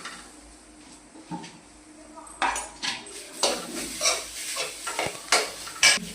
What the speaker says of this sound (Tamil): இப்போ வந்து அதுக்கு தேவையான பொருள் தேங்காய். இது வந்து லேசாக வறுத்துக்கலாம்.